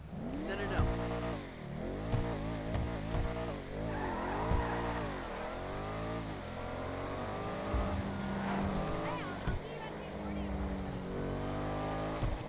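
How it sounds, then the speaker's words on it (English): In the video game GTA Online, a car engine revs up and down repeatedly with rising and falling pitch through gear changes, accompanied by tire squeal, while a voice talks over parts of it. "let's do a sound test"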